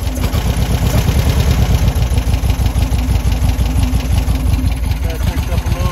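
A car engine fitted with IDF carburetors idles steadily up close during carburetor synchronization, its rough, pulsing throb running continuously and loudly throughout.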